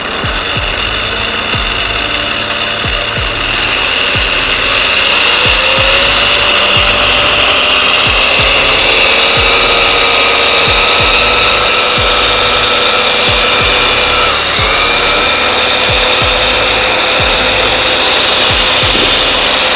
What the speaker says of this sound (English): So we'll see how our turbo agitator tool goes. We will start at speed 1.